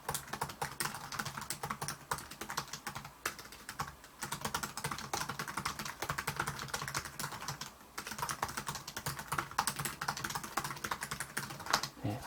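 Continuous rapid keystrokes on an LG Gram 13-inch laptop keyboard, soft close clatter with brief pauses between bursts, steady for the whole stretch and without speech.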